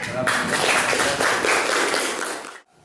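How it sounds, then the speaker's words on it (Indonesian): Audience applause at a school classroom presentation, a dense steady patter of clapping lasting a couple of seconds before cutting off abruptly near the end. "Tepuk tangan"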